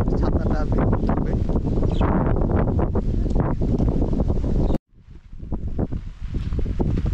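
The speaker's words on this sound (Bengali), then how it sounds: "কত বাতাস উপরে" Strong wind roars across the microphone in a Bangladeshi village on a cloudy, drizzly morning, loud and continuous, then cuts out briefly and gusts back in.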